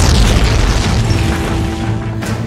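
A loud, deep explosion rumble at a Tata Steel plant that fills the scene and slowly tails off, with no voices.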